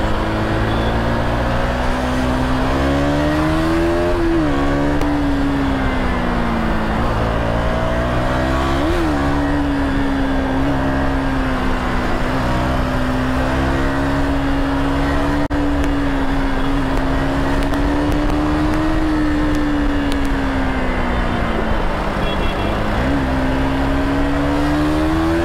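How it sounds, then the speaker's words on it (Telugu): Steady engine drone heard from inside a vehicle in Hyderabad road traffic heading over a flyover toward Gachibowli, the motor's pitch rising and dipping repeatedly as the traffic slows and moves on. "వెహికల్ స్లో అవుతున్నాయి, ట్రాఫిక్ హెవీ ఉందా ఏంటి."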